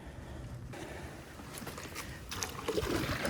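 A modular kayak paddles through a swampy South Florida waterway, the quiet dips and drips of the paddle soft and close against a faint outdoor background.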